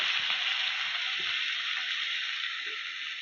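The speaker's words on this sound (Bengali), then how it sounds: "দেখো পেঁয়াজটা আমার হালকা ভাজা হয়ে গেছে।" Onions sizzling steadily in hot oil in a pan for fish curry, a continuous bright hiss with occasional faint clinks, no talking.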